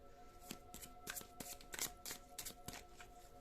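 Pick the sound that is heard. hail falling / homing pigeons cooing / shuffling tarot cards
shuffling tarot cards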